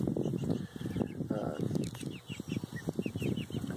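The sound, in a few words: chickens clucking in chicken tractor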